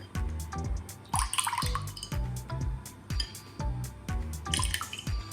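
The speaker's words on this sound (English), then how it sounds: "pour the mixture onto the bananas" Maple syrup mixture poured over bananas drips in a quick, irregular series of close, small wet plops and splashes, fairly quiet with a brief pouring trickle between drops.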